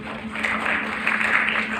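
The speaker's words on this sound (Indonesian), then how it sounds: "Tepuk tangan dulu buat Tuhan Yesus." Congregation applauding for Jesus during a church service, a brief, steady patter of clapping from many hands in a hall.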